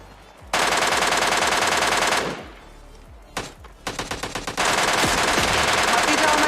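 Automatic gunfire in an action video game, loud sustained bursts of rapid shots broken by a brief pause, then staccato single shots before another long burst.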